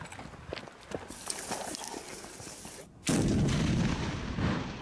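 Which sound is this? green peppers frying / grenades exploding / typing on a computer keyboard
grenades exploding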